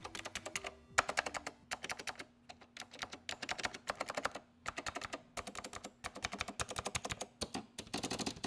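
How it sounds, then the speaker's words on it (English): Typing on the keyboard of a vintage Leading Edge Model D DC2014 computer: brisk, crisp clattering keystrokes in bursts with short pauses between them, close and clear with no talk. "Let's have a listen to what the keyboard sounds like."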